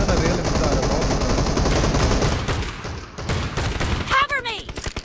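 Rapid gunfire from a new shotgun in PUBG Mobile, a dense run of loud repeated blasts that thins out near the end into scattered shots and a brief ringing ricochet.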